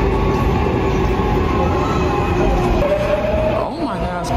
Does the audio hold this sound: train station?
yes